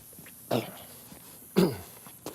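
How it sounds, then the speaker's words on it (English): Two short, forceful throat clearings about a second apart during a morning walk, close and fairly loud, with a faint third rasp at the end. "Sorry, had to clear my throat out there."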